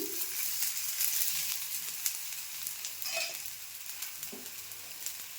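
Basale leaf talipatti fries in oil on a pan, with a continuous soft hissing sizzle and faint intermittent crackles and pops.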